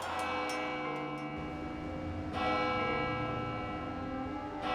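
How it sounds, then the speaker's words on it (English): A church bell tolls from Saint-Germain-l'Auxerrois in Paris, sustained ringing tones swelling with a fresh strike partway through, heard alone at moderate distance. "It's a bell tolling from this church, Saint-Germain-l'Auxerrois"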